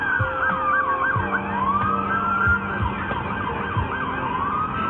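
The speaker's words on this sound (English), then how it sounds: "Okay, here come the patrol cars." Several police patrol car sirens wail at once in Los Angeles, rising and falling in overlapping sweeps, loud and fairly near over traffic rumble.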